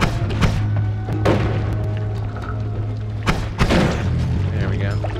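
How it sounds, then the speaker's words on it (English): Explosions in the video game Noita, a few heavy booms and thuds going off at intervals over a constant low hum of game sound, with a voice talking over parts of it. "I hear a lot of explosions"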